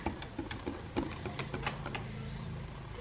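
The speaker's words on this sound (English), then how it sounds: "Just give it another good whisk." Popover batter whisked in a bowl, a quick series of light clicking and tapping strokes, soft and close, alone without talk.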